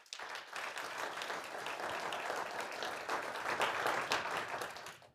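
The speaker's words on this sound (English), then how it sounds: "So please, a round of applause for the Fortune team." An audience claps steadily for several seconds at a conference event, a dense, even wash of applause heard from within the room at moderate loudness.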